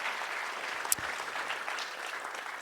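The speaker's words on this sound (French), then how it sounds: "On peut quand même les applaudir" An audience at a Café Numérique tech meetup in Liège applauds steadily for nearly three seconds, a dense wash of many hands with one sharper clap standing out near the start.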